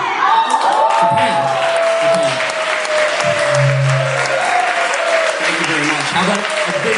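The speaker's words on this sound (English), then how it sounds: "applause, of course" Loud audience applause and some cheering fill the room at a live magic show, a dense steady clapping wash with a few voices and shouts rising faintly through it.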